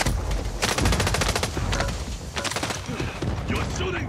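Rapid automatic gunfire in the Warzone video game, with several loud, close bursts of fast shots separated by short pauses.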